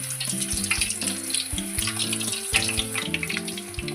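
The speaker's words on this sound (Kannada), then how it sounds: "ಈಗ ನಾನು ಈ ಆಲೂಗಡ್ಡೆನ ಡೈರೆಕ್ಟ್ ಎಣ್ಣೆ ಒಳಗನ್ನ ಮಾಡ್ತೀನಿ" Potato slices for bakery-style chips fry directly in hot oil, making a dense, continuous crackling sizzle, with the scrape and knock of a utensil stirring underneath.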